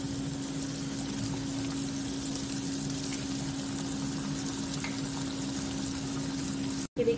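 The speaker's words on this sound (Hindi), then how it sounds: "अब एक एक समोसा हम डालेंगे" Mutton samosas deep frying in hot oil over a low gas flame give a steady, even sizzle with a faint hum underneath, close and moderately quiet throughout, with no talking.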